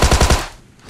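An M416 assault rifle fires in the PUBG video game: a quick burst of four loud, evenly spaced shots that snap off and fade into a short echoing tail.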